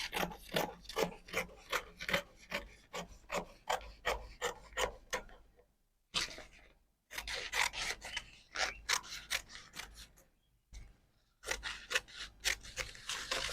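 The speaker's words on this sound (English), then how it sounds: "I'll cut it now." Scissors cutting through Sego headtie fabric for an autogele base, a rapid rhythmic series of crisp snipping and rasping strokes close to the microphone, broken by brief pauses, with no talking.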